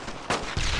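Gunfire in the World War II shooter Brothers in Arms: Road to Hill 30 comes as a quick burst of two or three loud, close shots in under a second.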